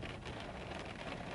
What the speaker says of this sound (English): I can't believe it's raining now.